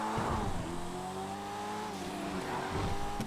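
A Porsche 911R driving in the video game GTA 5 gives a steady, close engine drone with rising and falling revs throughout, with no talking.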